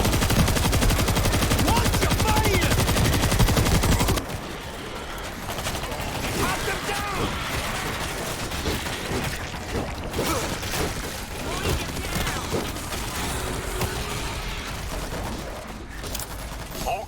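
Gunfire in the zombie video game World War Z: a loud, rapid automatic burst dominates the opening seconds, then scattered shots and clatter continue beneath game noise and a talking voice.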